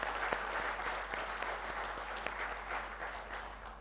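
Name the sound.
applause at ceremony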